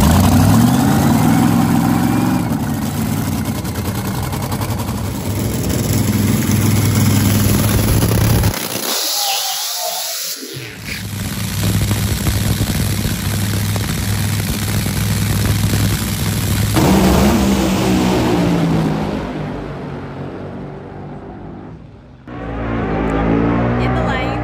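Nitro drag racing engines roar at the NHRA Pomona starting line. A loud, sustained engine blast with revving runs throughout, and the sound briefly cuts out near the middle before the roar returns.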